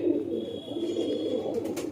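Pigeons in a tournament loft of low-flyer birds give a soft, low cooing murmur, faint and continuous, with light rustling behind it.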